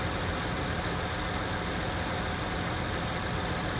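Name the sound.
tractor engine running in the video game Farming Simulator 19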